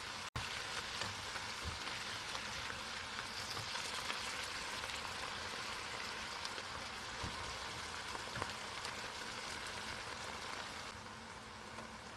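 Pork stir-frying in a pan for spicy Korean stir-fried pork, a steady dense sizzle of hot oil and meat crackling continuously at close range with no voices.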